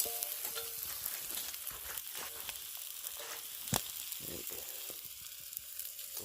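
Pork chops sizzling under a pot over a campfire in the woods, a faint continuous frying hiss with scattered crackles and one sharp knock, heard from close by.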